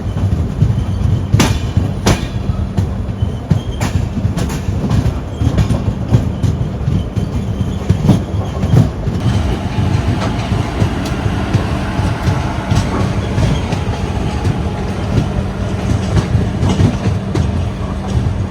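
A train rolls past close by near Ernakulam South, with loud steady rumble and rhythmic clickety-clack of wheels over rail joints, a faint high squeal early on, continuing for the whole stretch.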